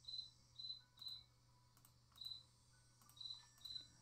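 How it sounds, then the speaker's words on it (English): Cricket chirps in a Nancy Drew video game, short high trilling bursts repeating at irregular intervals over a low steady hum, quiet and close. "Oh, I hear a chirp, chirp."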